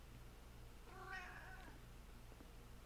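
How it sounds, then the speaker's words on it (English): A 21-year-old cat gives a single faint, thin meow midway through, a short drawn-out cry over a quiet indoor hum. "that was a very pathetic meow"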